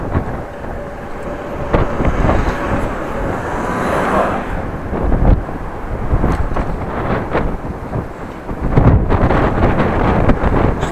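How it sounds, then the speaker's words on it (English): Steady, loud wind buffeting a microphone during a bike ride in Groningen, with rumbling low-end roar and occasional stronger gusts surging and easing. "Still gusts of wind,"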